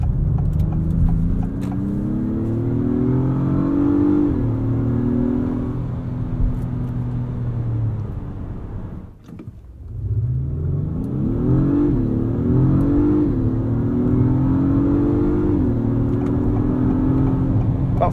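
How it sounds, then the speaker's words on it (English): A 2022 Acura MDX Type S accelerating hard and upshifting automatically at redline, with rising engine revs broken by quick shift dips and a deep pause before another climbing pull, loud and close. "It will automatically upshift into the next gear at redline, no matter what drive mode you're in."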